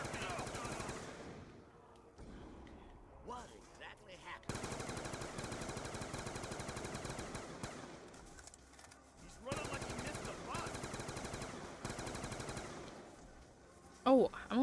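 Sustained automatic gunfire in Black Ops 2 Zombies, rapid bursts from a near weapon running through most of the stretch with brief pauses between volleys, ending in a few sharp bright hits.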